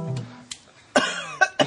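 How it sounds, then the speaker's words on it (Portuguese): A single person coughs several times in short, sharp bursts, preceded by a brief throat sound, close to the microphone and with no talking. "Eu tô com uma tosse horrível."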